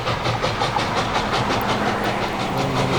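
A steam train on a photo run past, likely locomotive 2472 at Niles Canyon, passes at speed with a rhythmic chuffing and rumbling roar, fairly near and constant.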